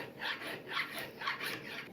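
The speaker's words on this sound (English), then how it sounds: "just a standard flat file and just doing a couple passes" A standard flat file drawn across the metal sole of an Amazon Basics #4 hand plane, four rhythmic rasping strokes, close and fairly quiet, with no talking.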